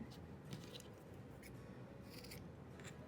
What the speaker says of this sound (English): I'm gonna have to cut this one a little bit